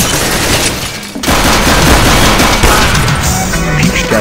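Rapid bursts of gunfire from peek shots in the video game CS:GO, loud and dense, with a brief pause near the start before the shooting resumes and keeps on without letup.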